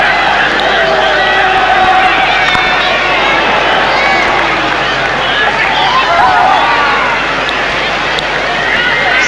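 A large stadium crowd murmurs in a continuous roar during a 1994 hockey World Cup semi-final between Pakistan and Germany, with a commentator talking loudly over the steady din.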